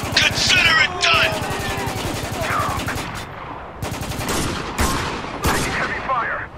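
Rapid automatic gunfire and repeated shots from the video game Spec Ops: The Line, loud and dense throughout, with brief gaps between bursts and shouted voices mixed in.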